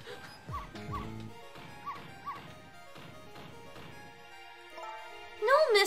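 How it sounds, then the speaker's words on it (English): A dog barks and whimpers in the Ghost Trick: Phantom Detective video game, a series of short, regular yips and barks, fairly close, with a sharp crash near the start and a louder burst at the end. "No, Missile, you're not supposed to bark!"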